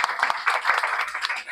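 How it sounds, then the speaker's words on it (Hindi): A short burst of applause at an Independence Day celebration, scattered claps from a small crowd with a voice talking over it. "प्लीज जोरदार तालियां"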